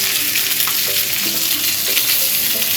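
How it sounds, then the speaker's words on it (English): Skinless salmon fillets sizzle in a frying pan just after being flipped, a loud continuous crackle with a few scraping and stirring sounds on top, and no talking. "Let's flip the salmon"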